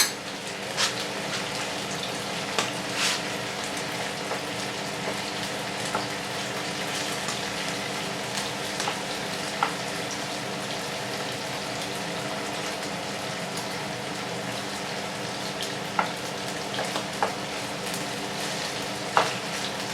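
Chorizo, chicken and bacon brown in a frying pan, giving a steady, even sizzle across the whole stretch, broken by occasional sharp clicks of spoons moving the meat, with no voices.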